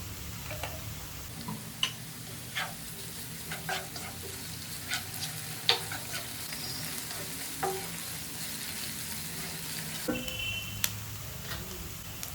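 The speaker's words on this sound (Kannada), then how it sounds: "ಜಿಂಜರ್ ಗಾರ್ಲಿಕ್ ಪೇಸ್ಟ್ ಹಾಕ್ಕೊಳ್ತಾ ಇದ್ದೀನಿ" Ginger garlic paste frying in a pan for chatpata chicken fry, a steady close sizzle with scattered ticks and stirring clicks throughout, no voices.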